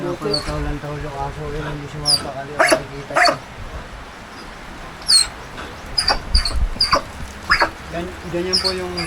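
A dog barks in several short, sharp bursts, close and fairly loud, with a person speaking over and between the barks and birds chirping faintly in the background.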